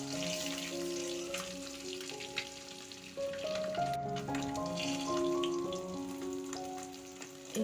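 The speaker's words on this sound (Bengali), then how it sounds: "ডিমগুলোকে আমি আগে থেকে সিদ্ধ করে খোসা ছাড়িয়ে রেখেছিলাম, ওইগুলোকে একটু হালকা করে ভেজে নেব নুন হলুদ দিয়ে" Boiled peeled eggs frying in oil with salt and turmeric in a wok, a soft continuous sizzle with scattered pops and crackles, fairly quiet, beneath light background music.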